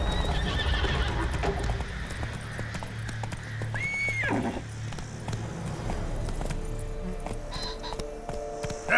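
Geralt's horse Roach in The Witcher 3: Wild Hunt, rhythmic galloping hoofbeats clip-clopping steadily with a loud neigh partway through, set against ambient game sounds and music.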